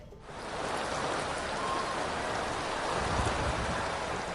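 Steady rain falling at Tirumala, a dense, even hiss that holds at the same level throughout with no voices.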